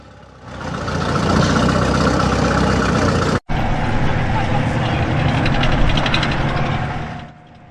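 A Russian tracked gun tractor's engine rumbles loudly and steadily up close, with a brief cut partway through before the roar carries on.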